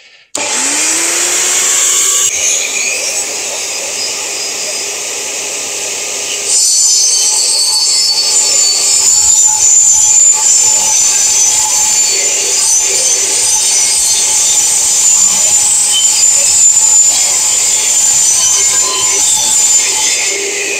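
An Evolution S210CCS circular saw spins up with a rising whine, then bites into aluminium with a loud, harsh, sustained metallic screech that carries on steadily close by.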